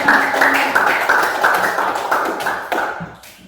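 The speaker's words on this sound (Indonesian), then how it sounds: "Tepuk tangan." A class gives a round of hand claps, a dense, steady patter of clapping heard close, with a tone held underneath, tapering off at the end.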